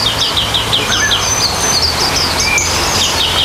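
Birds in an aviary chirp and call in a busy series of high, repeated notes, some close and loud, over a steady background hiss and low hum.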